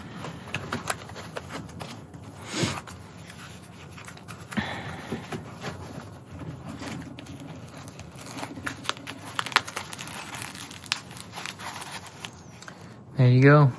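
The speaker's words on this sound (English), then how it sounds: "Fold it up and roll it up." A minimal black nylon (Oxford cloth) four-pocket tool roll pouch holding two mechanic magnets is folded and rolled up up close, making soft rustles and crinkles with scattered light taps and a louder thump at the very end.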